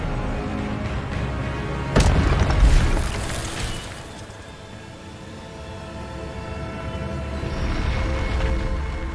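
Expelliarmus spell effect in Hogwarts Legacy: a sudden loud booming impact with crackling, shattering bursts, fading into a rumbling magical swell that rises again near the end.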